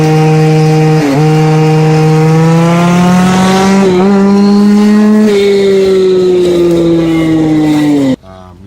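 A gas-powered GoPed go-kart motor runs close and loud, a buzzing, high-revving drone whose pitch climbs and dips several times before cutting off abruptly near the end.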